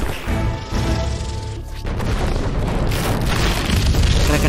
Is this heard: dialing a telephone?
no